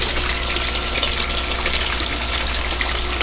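A 1,500-gallon-an-hour pump forces water into a tank, making a steady, loud gushing rush that continues without a break throughout.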